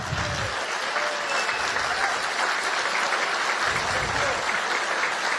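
Crowd applause for a university rector at a public event in São Leopoldo, a dense steady wash of clapping lasting throughout, fairly loud and even, with murmurs of voices mixed in.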